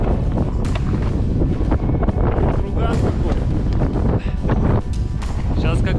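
Steady, heavy wind buffeting a GoPro microphone on the winter ice of Lake Baikal, a constant low rumble with gusty bursts throughout, while faint voices surface now and then beneath it.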